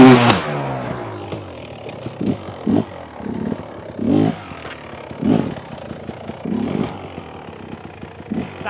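An enduro motorcycle on an obstacle-riding course revs in repeated short bursts, its engine rising and falling, close and loud with some clatter before pulling away.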